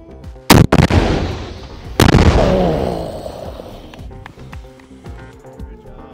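A heavy weapon fired with Ukraine's military: two loud, close blasts about a second and a half apart, each with a rumbling explosive boom that rolls away slowly, followed by fainter distant pops and shouting voices.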